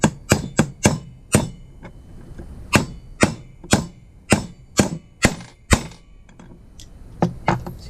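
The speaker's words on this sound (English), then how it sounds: "I'm just going to hammer this" Hammer blows drive a bearing into a motorized bicycle engine crankcase through a socket, about a dozen sharp, close metallic strikes in an uneven rhythm with short pauses between bursts.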